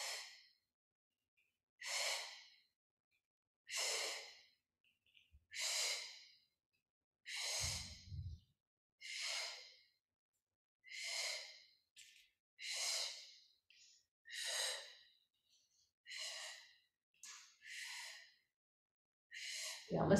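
Short, rhythmic breaths during a yoga core exercise, with about a dozen sharp breathy exhales spaced evenly a couple of seconds apart, close and clear with no talking.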